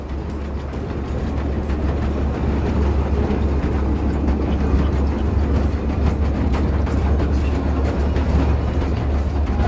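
A train rumbles steadily at a vintage train station, a loud continuous low roar with rattling carriage noise lasting throughout, no distinct voices.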